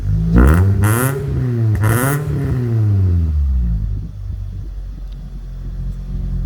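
A JDM barn-find car, warm after a drive, revs hard several times with rising and falling engine pitch, then settles into a steady, close, rumbling idle.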